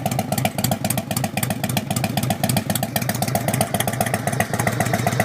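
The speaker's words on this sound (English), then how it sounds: "Bike has a nice low rumble" A 1997 Harley-Davidson Road King idling with a steady, loud, close low rumble and rhythmic lumpy firing pulses that continue through the whole stretch, no voices.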